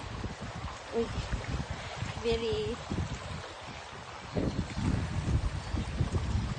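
Gusty wind buffeting the microphone outdoors at Brombil Reservoir in Wales, with low rumbling bursts and a brief voice partway through.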